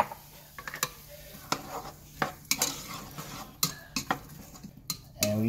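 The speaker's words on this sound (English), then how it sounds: "First thing we're gonna do is we're gonna saute our onions." Onions sautéing in a tablespoon of oil in a pot for beef green chili, with close clinks and scrapes of a utensil against the pot over a soft, low sizzle.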